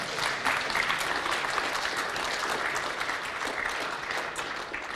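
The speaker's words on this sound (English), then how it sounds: "You can applaud if you want." Steady applause from a conference audience at a security talk, a dense even clatter of many hands clapping that runs without pause and at full strength for the whole stretch, with a faint murmur of the crowd underneath.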